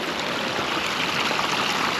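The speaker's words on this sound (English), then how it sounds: "we made it up to this waterfall right here" Water pours over a partly frozen waterfall at Rocky Mountain National Park, a steady broadband rush that stays close and even throughout, with no voices.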